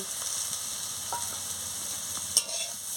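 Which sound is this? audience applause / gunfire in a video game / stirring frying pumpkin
stirring frying pumpkin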